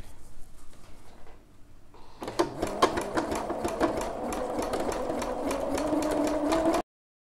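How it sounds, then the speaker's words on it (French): A sewing machine runs in a steady close whir while stitching the side seam of a bra, starting after a quieter moment of handling and continuing for several seconds before stopping abruptly. "Je vais commencer donc bien à ma couture de côté."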